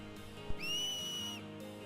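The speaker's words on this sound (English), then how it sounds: "You whistle." A single sharp, high finger whistle in a Final Fantasy X fan animation scene, held for under a second after a brief click, clear and alone against a quiet background.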